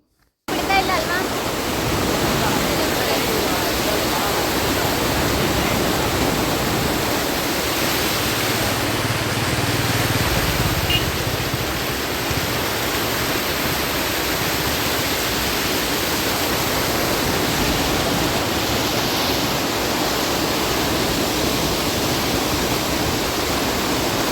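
Loud, steady roar of rushing floodwater from a swollen river, a continuous broadband wash with no breaks across the whole stretch.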